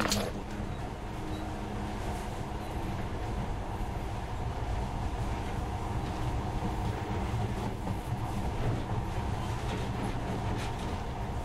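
A monorail train in the video game Metro Last Light rumbles along steadily with a continuous low mechanical drone and faint rattling, sustained at an even level throughout.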